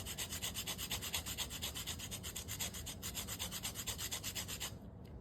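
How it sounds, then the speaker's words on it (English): A lemon's skin is rubbed against a small zester grater for a lemon meringue pie, making a quick, even rasping scrape in steady back-and-forth strokes at close range, stopping just before the end. "that's made from the skin of the lemon. You want to get you a little, I call it a little zester grater."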